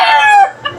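A gray bull stag rooster crows close and loud, one long sustained call that trails off, followed by a brief softer note.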